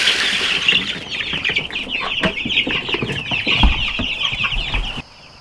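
Chickens cluck and chirp steadily in a noisy chorus close by, with occasional thumps and rustles beneath.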